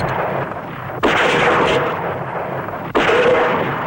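Two loud, sharp rifle shots from a repeater, about two seconds apart, each cracking sharply and then trailing into a lingering echo.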